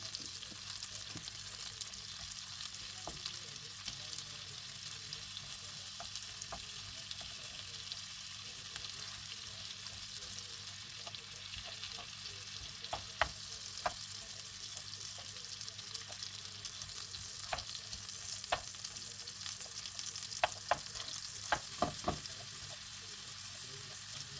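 Homemade sucuk made from minced meat fries steadily in a pan, a soft continuous sizzle broken by light scraping taps of a spoon stirring and mashing, quiet and close with no voices.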